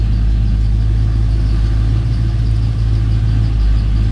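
Engine of a square body Chevy truck, a 4-speed, 4-wheel drive short bed, running steadily at idle with a loud, even low rumble and no talk.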